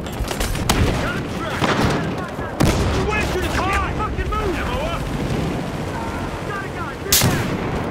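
Gunfire and a frag grenade blast from Battlefield Hardline on the Riptide Conquest map, with loud sharp shots and booms scattered across the scene under shouted in-game voices, and a heavy burst near the end.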